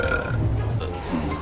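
A loud, drawn-out burp in a public place after drinking soda, one continuous low rumbling belch lasting over a second, close to the listener.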